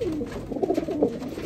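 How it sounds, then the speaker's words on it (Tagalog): Racing pigeons crowded in a basket early in the morning keep up a soft, continuous cooing close by, several low throaty coos overlapping, with no talking. "basket tayo ng mga ibon natin"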